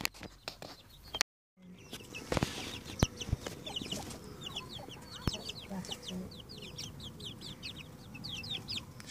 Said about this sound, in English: Chickens, which are chicks now, 1 month and 5 days old.